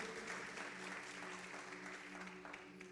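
A church congregation applauds during an afternoon service, a steady, fairly faint wash of many hands clapping continuously, with a sustained tone from the room underneath.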